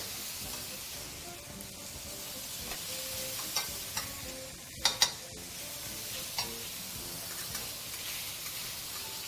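Onions dropped into a hot pan over seared lamb, sizzling in a steady close hiss, broken by a few sharp clicks and scrapes of stirring.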